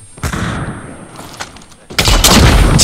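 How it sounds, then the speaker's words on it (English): Hip-fired shots from an NA45 sniper rifle in a shooter video game, a loud close burst near the start and a heavier blast near the end, with faint game noise between. "The most toxic thing you can do with an NA45, hip fire."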